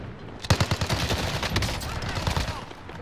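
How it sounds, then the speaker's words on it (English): Rapid gunfire in a Call of Duty match, a close burst of repeated shots followed by continuous crackling fire and further volleys, with a voice faintly underneath. "Taking direct fire."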